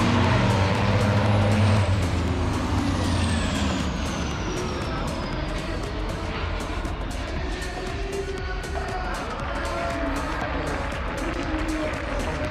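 Racing trucks at the Nürburgring roar past in a dense, continuous engine rumble with hissing air brakes, loud and close, while people talk faintly underneath.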